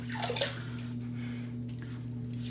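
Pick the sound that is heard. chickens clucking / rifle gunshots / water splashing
water splashing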